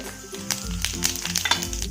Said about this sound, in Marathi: कढईमध्ये मी तीन चमचे तेल गरम करून घेतलेलं आहे आता त्यामध्ये मी एक चमचा जिरे घालत आहे